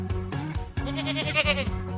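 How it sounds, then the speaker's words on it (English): A goat bleats on a farm, two or three wavering, nasal cries in quick succession, loud and close with no voices. "This is a goat."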